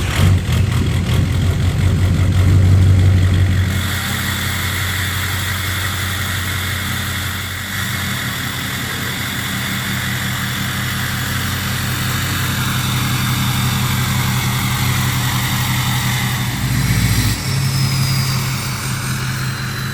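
A 6.0 diesel truck engine, left sitting for a week, cranks and catches with a loud rough burst, then settles into a steady, deep idle with a faint hiss and a couple of small revs.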